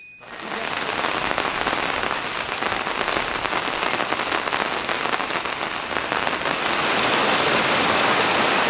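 Heavy storm rain pours down steadily on a garden aviary in a dense, loud hiss with scattered drops pattering close by, sustained throughout without voices.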